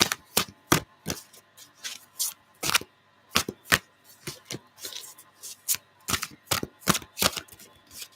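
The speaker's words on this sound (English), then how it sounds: "I'll have to shuffle a bit again." Repeated crisp snaps and riffles of tarot cards being shuffled, in quick irregular bursts, close by with no talking.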